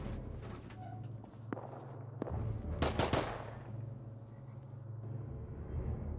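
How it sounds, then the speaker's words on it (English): Several sharp gunshots crack out in the survival game Rust, one isolated shot followed by a quick burst, set against a steady low rumble and footsteps, with no talking. "That's a lot of shooting"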